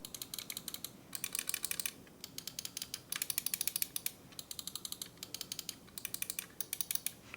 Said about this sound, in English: You can hear the plastic hitting it before I actually click it.